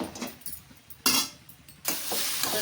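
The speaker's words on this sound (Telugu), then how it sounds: "ఈ విధంగా కింద నుండి మీదకి కలుపుకొని వేయించుకోవాలన్నమాట" Gongura chutney mixture fries in oil, sizzling softly while a spoon scrapes and stirs it in a few bursts at close range.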